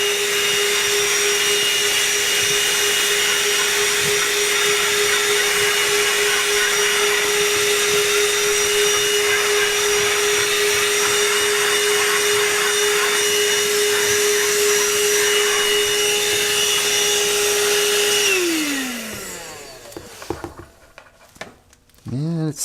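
A ThisWorx TWC-01 portable car vacuum runs steadily, loud and close, with a constant motor whine as it sucks up wet dirt, then spins down and cuts off near the end, followed by a few faint handling knocks.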